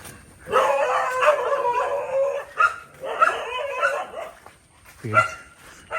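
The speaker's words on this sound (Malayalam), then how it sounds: "പയ്യെ പോട്ടോ, ഈ പട്ടി ഇവിടം വരെ എത്തൂട്ടോ" Dogs in a residential area of Kochi, India bark and let out drawn-out, wavering howls in several close, loud bursts separated by short pauses.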